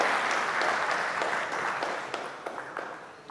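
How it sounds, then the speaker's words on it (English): Audience applause at a ceremony at IIT Bombay rolls on as dense, even clapping that slowly thins out, with a few sharper individual claps standing out toward the end. "A big round of applause to all the stars here."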